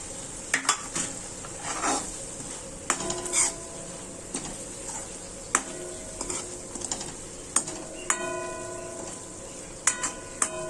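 A spoon clinks and scrapes against a cooking pot as okra is stirred into a simmering gravy, with irregular metallic knocks and ringing taps over a faint sizzle.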